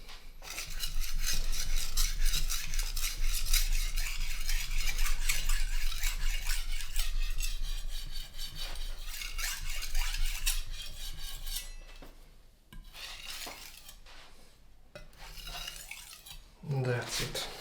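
A steel knife is polished on a whetstone with a rapid, continuous rasping scrape that runs steadily for several seconds, then turns intermittent, with short strokes and pauses toward the end.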